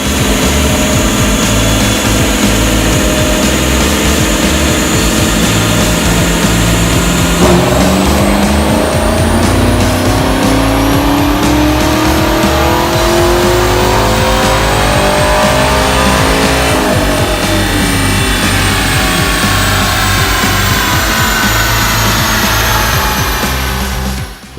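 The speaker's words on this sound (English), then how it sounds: "After all, the vehicles put on these machines are put under heavy strain at high RPMs." A car engine revs hard at high RPM on a chassis dyno, a loud sustained roar whose pitch climbs steadily through the run, drops, and then climbs again, with no talking over it.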